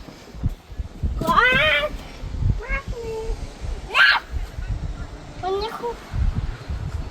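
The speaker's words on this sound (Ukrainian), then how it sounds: "О, диви, котик." A cat meows several times, short rising and falling cries spaced a second or two apart, heard close by while people chat and rustle around it outdoors in a park.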